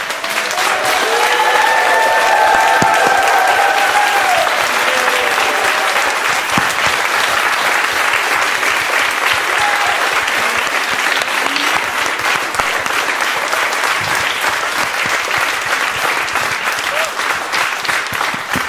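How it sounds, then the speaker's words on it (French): Long, dense storm of applause from a large audience at a book festival event, loud and sustained throughout, with a few brief voices rising over the clapping early on. "mais une tempête d'applaudissements"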